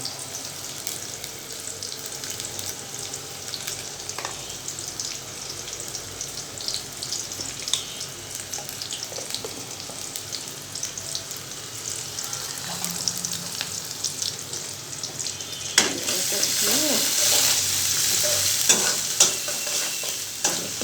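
Chopped onion and garlic sizzle in oil while being stirred, a continuous hiss with scattered scraping and tapping of a utensil, and the frying grows louder and brighter near the end.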